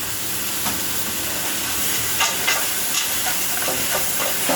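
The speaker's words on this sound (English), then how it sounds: "So I'm just stirring all of this up." Soup with frozen collard greens is stirred in a pot, giving a steady hiss and sizzle with a few faint scraping strokes, close and alone.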